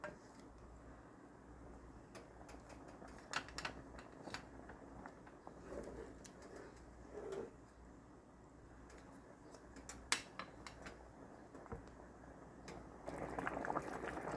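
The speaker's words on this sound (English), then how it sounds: "See how the boil is starting to come up?" A pot of rice and butter coming up to a boil, soft bubbling and ticking pops close by that grow busier toward the end, with no talk.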